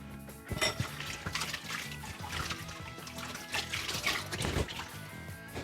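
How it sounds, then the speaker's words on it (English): Hands washed under running water at a tap give a continuous trickling splash with small drips and knocks, fairly quiet and close. "Quickly wash my hands."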